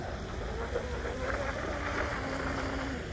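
Brushless-converted MRP Bud Light RC tunnel hull boat running laps on open water, its steady motor whine with a few pitch shifts blending with wind and water noise throughout.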